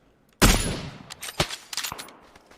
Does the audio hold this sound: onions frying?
no